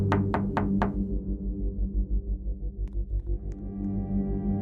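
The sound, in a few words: something knocking on a window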